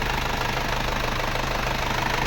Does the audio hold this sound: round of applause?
no